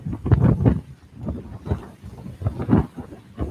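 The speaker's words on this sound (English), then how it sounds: "Sorry, it's really windy." Strong wind buffets the microphone at a campsite during thunderstorms, in heavy, rumbling gusts that surge and fade several times, loud and close with no other clear sounds.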